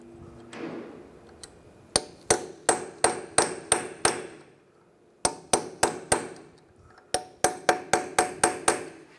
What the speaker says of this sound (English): You want to use a small punch, and just where it's peened over, just push it back a little bit.